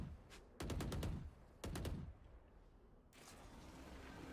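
Rapid gunfire bursts crackle in a Valorant esports match, two tight volleys of sharp shots followed by a lighter pop, fairly faint and distant-sounding under low background noise.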